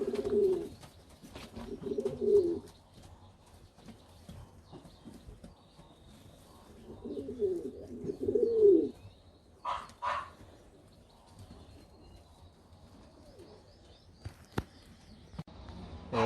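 Pigeons in a loft cooing in two soft, rolling bursts a few seconds apart, fairly close, followed by quiet stretches with faint knocks and shuffles.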